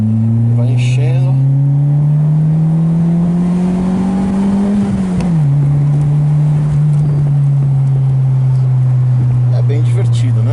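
A 1995 Lotus Elan S2 engine drones loudly from close by. Its revs climb steadily, dip sharply at a gear change, then settle into a steady cruise, with wind and road noise throughout.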